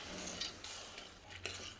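Soaked, drained moth beans being stirred into a masala in a pressure cooker, with soft scraping and clinking of a spoon against the metal pot in a few quiet, close strokes.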